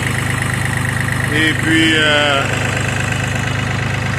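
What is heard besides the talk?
wood splitter engine idling while warming up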